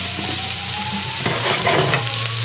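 Butter and chives sizzle steadily in a hot pan, a continuous close frying hiss with faint stirring.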